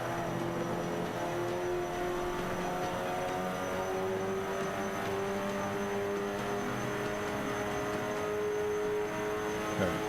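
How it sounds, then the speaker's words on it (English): A Ferrari 458 Spider in Forza 5 runs with a faint, steady turbo whistle or whine over a low engine drone and hum, sustained throughout with no talking. "The turbo whistle."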